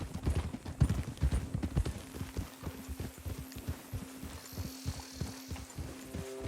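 Horse hooves clip-clop at a steady walking pace in Red Dead Redemption 2, close and clear over a low game hum.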